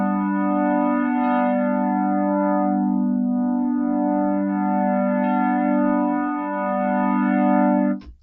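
An FM synth patch built in Ableton Operator holds a steady, bright harmonic tone that slowly shifts in timbre, with a couple of brief higher boink accents and a sharp click at the end.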